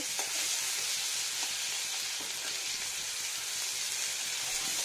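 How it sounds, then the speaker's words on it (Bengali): Tomato, green chilli and ginger fry in a pan with a steady, dense sizzle that holds evenly throughout, close and unbroken, with no voices. "টমেটো, কাঁচা লঙ্কা ফ্রাই করে নেব সুন্দর করে"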